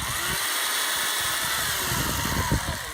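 An A101 electric saw cuts through a thin tree branch, a steady loud whirring motor drone running for the whole clip with slight changes in load as the blade bites; no voices.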